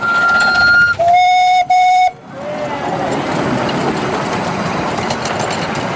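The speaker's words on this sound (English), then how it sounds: "Pass the train on the other side." A steam whistle sounds a long note and then two short toots, followed by the steady rushing rumble of a 7.25-inch gauge model steam train running past nearby on another track.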